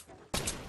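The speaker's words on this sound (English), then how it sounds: "I'm getting shot from the right." Gunfire in the video game Fortnite, a sudden loud burst of shots breaking in after a quieter moment, sharp and close, filling the rest of the brief moment.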